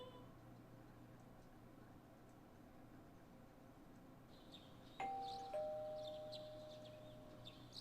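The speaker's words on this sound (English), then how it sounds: "You hear the doorbell ringing." A doorbell chimes twice in quick succession in the video game Persona 4 Golden, clear and ringing out, over a faint steady background hiss.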